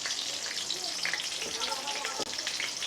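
Whole spices, two dried red chillies, small and large cardamom, cloves, cinnamon, fennel, cumin and panch phoron, frying in hot oil for a vegetarian dhoka dish, giving a steady close crackling sizzle with a brief stir near the end.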